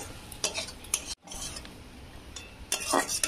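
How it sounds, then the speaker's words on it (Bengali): Banana flower filling with ghee stirred in a pan, a utensil scraping and clinking in short close strokes with a light sizzle underneath and a brief pause midway. "একটু নেড়ে চেড়ে নেবো।"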